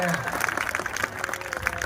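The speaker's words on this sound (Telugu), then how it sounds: "కొంచెం గట్టిగా చప్పట్లు కొట్టండి." Audience clapping at a temple event in Anakapalli, a dense, continuous patter of many hands close by, steady for the whole stretch with no pauses.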